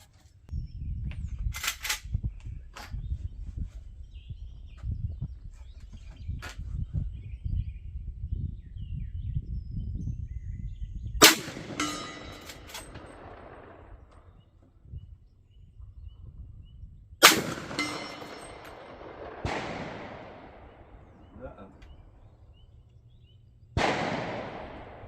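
A Marlin Model 1894 lever-action rifle in .44 Magnum firing at a steel plate 100 yards away outdoors: three sharp, loud shots spaced several seconds apart, each with a trailing echo, over a low rumbling background.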